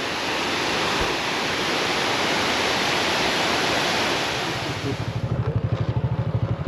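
Tad Saephra waterfall in Sanamxay, Attapeu, Laos roars in a loud, unbroken wash of water; near the end, a low rhythmic throbbing joins in.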